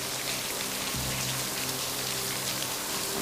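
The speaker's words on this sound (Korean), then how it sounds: "너무 큰 비로구만" Heavy rain pouring down, a dense continuous hiss of drops hitting surfaces, loud and steady without a break, with a low tonal hum joining faintly partway through; no voices.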